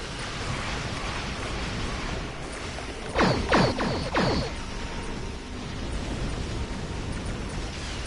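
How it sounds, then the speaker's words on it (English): Pahvo torpedoes from a space ship in the game Star Trek Online, a quick run of four or five sweeping whooshing blasts close together over a steady loud background hum, lasting about a second. "Those Pahvo torpedoes there."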